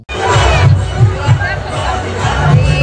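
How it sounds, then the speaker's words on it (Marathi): Dense festival crowd at the Bhaveshwar Raja Ganpati celebration, a loud continuous hubbub of many voices with shouts and cheers rising through the babble, close and unbroken. "किती गर्दी आहे भावेश्वरचं राजा।"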